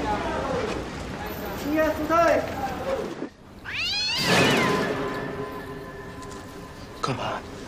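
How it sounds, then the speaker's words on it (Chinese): A cat meows in a tense TV drama scene: one wavering call early on, then a sharper rising meow, both fairly close and loud over a faint, murmuring background. "听见没？ 猫叫。"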